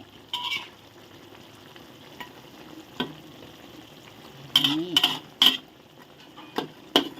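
Crispy fried catfish is stir-fried with Thai eggplant, a faint sizzle running under scattered spatula scrapes and knocks against the pan, with a quick burst of metal clatter near the end.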